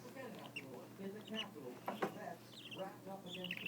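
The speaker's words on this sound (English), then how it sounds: "we hear 4, 5, 6, 7 birds squawking" Baby budgies squawk and chirp in a scatter of short, high calls from several birds, fairly faint and close, with soft talking mixed in.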